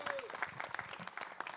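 Applause from a press conference audience in India, a brief burst of dense clapping at moderate distance with voices mixed in.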